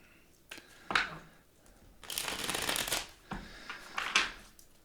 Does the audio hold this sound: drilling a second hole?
no